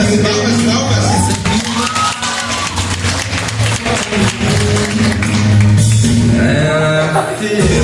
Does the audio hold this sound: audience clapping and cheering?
yes